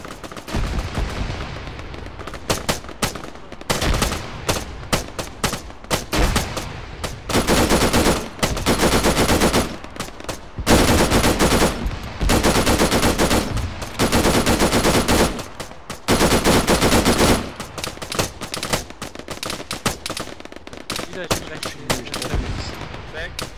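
Heavy gunfire in ArmA 3 with the Stargate mod, loud bursts of automatic fire and rapid shots, some stretching several seconds and broken by brief pauses.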